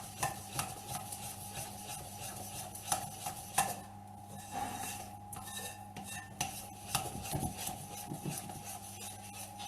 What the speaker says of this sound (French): je mélange bien ma farine, mes œufs, ma levure.